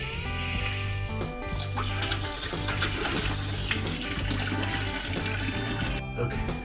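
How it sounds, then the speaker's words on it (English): Water rushes steadily from a newly plumbed shower valve in an off-grid build, a loud continuous hiss with a hum running under it that cuts out briefly near the end. "So turn the shower valve on."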